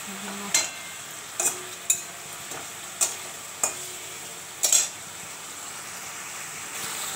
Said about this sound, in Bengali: এদিকে ডাল হচ্ছে, মাছটা দিয়ে দিচ্ছি।